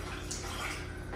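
Water rushes steadily from a tap as a wall mop is wetted, a close, continuous splashing hiss over a short moment with no voices.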